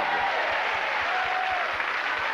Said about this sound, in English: Will you give them a round of applause, ladies and gentlemen?